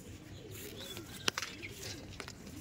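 Soft, low cooing from pigeons kept at a home loft, faint and close, with a few light clicks and rustles scattered through the quiet background.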